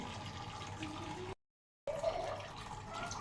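Tap water runs and splashes softly as a scaled hilsa fish is rinsed, with a brief break in the flow partway through before the quiet trickle resumes.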